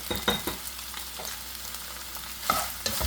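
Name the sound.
soya chunks frying in hot oil in a kadai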